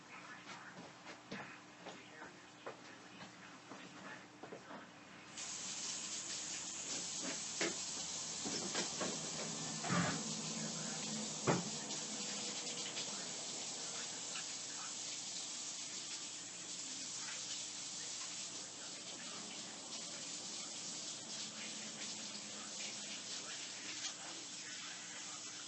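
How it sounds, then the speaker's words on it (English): Tap water runs into a home kitchen sink for handwashing during baking. A soft hiss steps up into a steady, fuller rush a few seconds in and continues unbroken to the end. "I'm gonna go wash my hands."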